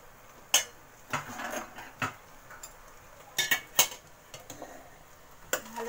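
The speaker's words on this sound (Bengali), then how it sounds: "ভালো করে এটা মিশিয়ে নেব" Rice and vegetables being mixed in ghee in a pan, a spoon clinking and scraping against the metal in irregular sharp taps spread over several seconds, fairly quiet and close, with no talking.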